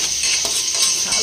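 Garlic sautéing in a pan with ginger for ginataang snails, a short, close, steady sizzle with a brief scrape of stirring partway through and no talking.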